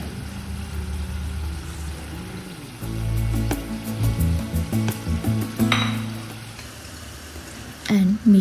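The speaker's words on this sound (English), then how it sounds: "Stir it around to fry them a bit" Whole spices frying in a pan while being stirred, a steady close sizzle with clinks and scrapes of the utensil, growing louder midway.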